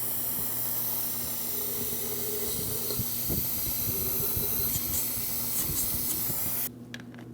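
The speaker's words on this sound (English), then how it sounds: "I have a fluid extractor." A fluid extractor draws brake fluid out of the master cylinder reservoir on a 2005-2010 Chrysler 300, giving a steady close hiss with faint gurgling bubbles that cuts off abruptly near the end.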